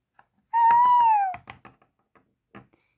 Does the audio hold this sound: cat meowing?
yes